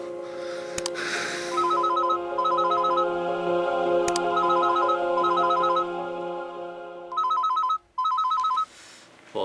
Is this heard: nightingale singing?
no